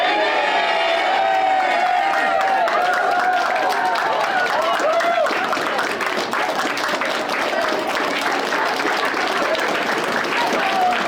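An audience bursts into steady, loud applause with cheers and whoops after the announcement of the 2026 Prix collégial du cinéma québécois film award, the clapping continuing unbroken for about eleven seconds.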